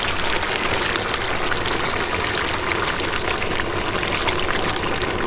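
Water poured into a kazan of kuyrdak stew cooking over a campfire, a steady broadband splash and rush holding level and fairly loud for the whole stretch, with no talk.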